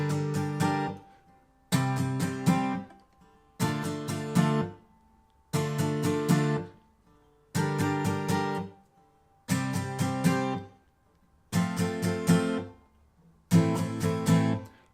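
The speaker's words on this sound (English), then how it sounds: "we're going to be using 4 down strums per chord" A guitar plays a chord progression with four down strums per chord, in seven evenly spaced bursts separated by short silences. Close and clear, with no talking.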